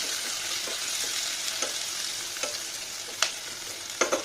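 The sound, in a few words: chopped capsicum sautéing in a pan for chicken kadai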